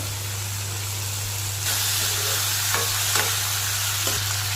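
Fish fries in a pan for a dish with taro and tomato, the sizzle jumping louder partway through as pieces are stirred, with a steady hum underneath and no talking.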